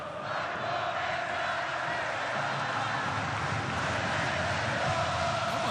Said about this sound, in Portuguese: Ouça a torcida do Flamengo.